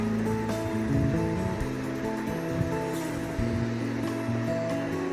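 Ground channa masala paste sizzles and crackles in a hot pan, a dense, steady frying hiss with occasional sharper pops and clinks throughout, and no voices.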